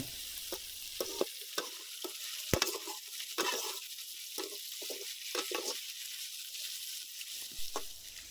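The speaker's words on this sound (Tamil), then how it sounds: "அடுத்ததாக நம்ம கட் பண்ணி வச்சுருக்க தக்காளியை சேர்த்து நல்லா வதக்கி விட்டுக்கோங்க." Chopped tomatoes sautéing and being stirred in a pan for Pallipalayam chicken, with a steady close sizzle and repeated scraping stir strokes throughout, and no voices.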